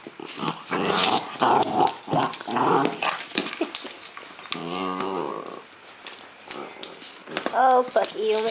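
A dog growls, whimpers and yips in a varied run of small vocal noises while playing with a new toy, with a person talking over and between the sounds nearby.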